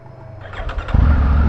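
A Triumph Tiger 900 GT Pro motorcycle engine catches and starts after a brief cranking, settling into a loud, steady idle close by.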